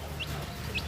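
Chickens on a village farm raising native kampung and Bangkok fowl, with two brief clucks set against a steady low hum of farmyard noise.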